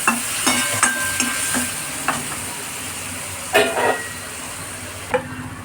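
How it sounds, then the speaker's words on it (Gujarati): Tomatoes stirred into hot oil in a frying pan over low-medium gas, with a continuous sizzle and repeated sharp spoon scrapes and clanks against the pan. "ટામેટાં નાખીશું અને મિક્સ કરીશું"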